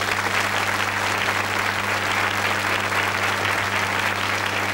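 A French television studio audience applauds a guest, dense sustained clapping filling the whole stretch at full volume.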